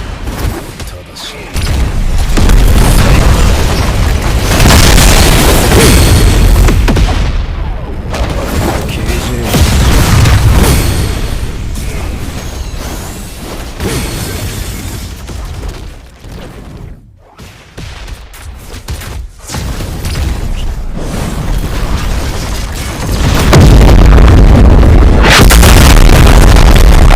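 Bomb explosions in the Battlegrounds video game: heavy, continuous booming blasts and rumbling detonations that stay loud and dense almost throughout, with brief dips between volleys.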